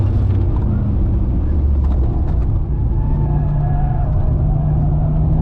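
A BMW 330ci Clubsport engine drones loudly and steadily from inside the car, a deep constant rumble with a rising whine layered on top in the second half.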